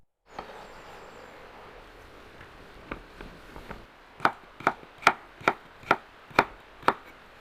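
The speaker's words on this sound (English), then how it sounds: "We've chopped the carrot" Knife chopping carrots on a board for Uzbek plov, starting with softer scattered cuts, then a run of seven crisp, evenly spaced loud chops close up.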